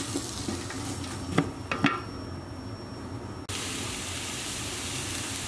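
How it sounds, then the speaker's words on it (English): Onions and celery frying in a pot for Moroccan harira lamb soup, a steady sizzle with a few stirring scrapes early on, then a sudden jump to a louder, denser hiss partway through, no talking. "And we'll add our onions and celery straight in"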